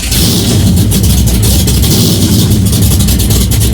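A Ford Torino muscle car at a Fast Fords and Muscle Mustangs racing event runs loud and close, a steady heavy rumble with a choppy, lumpy idle pulse that carries on without a break.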